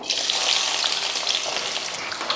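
Shallots crackle and sizzle steadily in hot oil while frying until golden for a Tamil kuzhambu, a dense, bright frying hiss that stays loud and even throughout with no voices.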